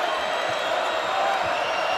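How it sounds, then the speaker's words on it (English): Crowd in a basketball arena on a Friday night during a UNC vs BYU exhibition game, a steady, dense roar of cheering throughout, fairly loud and continuous without distinct claps. "The crowd making some noise here on this Friday night"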